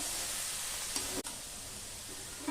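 Cabbage frying in a pan, a soft steady sizzle close by with a faint stirring scrape or two, quiet and unbroken by speech.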